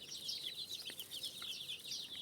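A flock of chickens and young chicks clucks and peeps continuously, with a dense chatter of high chirps close by and no voices.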